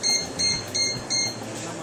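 Four short, high-pitched electronic beeps from an electric soup maker, evenly spaced and fairly close, with a quiet background hum.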